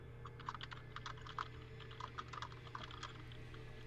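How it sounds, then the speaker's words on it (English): Loud computer keyboard typing in a quiet room during an online tabletop game session, rapid irregular clacks of keys over a low steady hum, close and continuous. "That is a loud keyboard."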